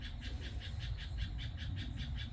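Frogs croak at night during a hot tropical-night summer evening, a steady chorus of evenly pulsing calls over a constant low background drone, with no one talking.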